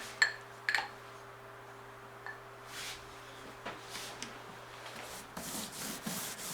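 A paintbrush lays a second coat of dark green paint, making soft, faint rubbing swishes in uneven strokes, with a few sharper taps near the start and a denser run of strokes toward the end.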